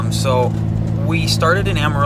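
A Ram EcoDiesel pickup's engine drones steadily as the truck tows a 10,000-pound, 24-foot closed trailer on a highway drive from Amarillo, Texas, with the low hum running beneath someone talking inside the cab.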